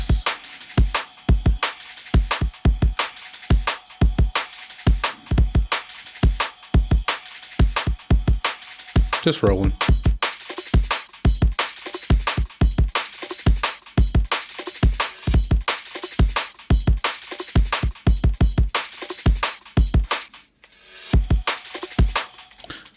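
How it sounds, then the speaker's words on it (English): A punchy drum and bass loop of kicks, snares and claps repeats in a fast, rolling rhythm, loud and upfront, with a few quiet spoken words. "Just some kicks, a snare, clap."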